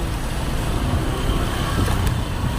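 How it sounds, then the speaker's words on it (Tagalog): Rush-hour road traffic in Cebu makes a short, continuous rumble of nearby vehicle engines, steady and fairly loud throughout, with no voices. "Cebu traffic situation."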